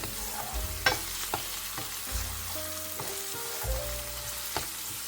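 Onions frying for a homemade Italian risotto, stirred in a pan; a constant soft sizzle runs under repeated scraping and knocking strokes of the spoon, with one louder clack near the start.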